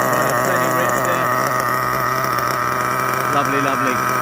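A Kyosho USA-1 nitro RC truck with a 3-speed transmission idles during engine break-in, running rich with a loud, close, unbroken buzzing drone that holds steady without revving.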